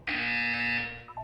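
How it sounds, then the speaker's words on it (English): A single loud, harsh electronic buzzer tone in a video game test chamber, sounding steadily for under a second before cutting off. "You will hear a buzzer."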